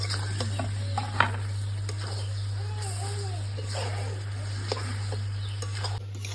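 Elephant apple is stirred and fried with jaggery in a pan, producing a steady sizzle broken by repeated spoon scrapes and knocks. A voice speaks briefly over the cooking.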